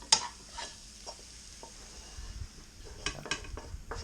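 A scrambled egg is stirred in a hot pan for fried rice, with soft scraping strokes and faint sizzling, quiet and close, in irregular taps and scrapes.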